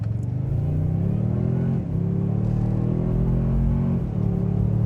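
Toyota Sequoia 1794 Edition SUV with a 10-speed automatic accelerating hard in two-wheel drive high, a deep engine rumble rising in pitch through each gear, with shifts heard as brief dips around two and four seconds.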